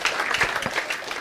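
Brief burst of classroom applause for a student during a law lecture, a short dense patter of clapping from a small group, fairly close, with no talk over it.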